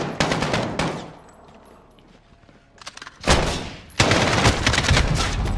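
Bursts of gunfire from Call of Duty Modern Warfare during a prison escape mission: a burst at the start, a quieter stretch, then sustained loud rapid firing in the final two seconds.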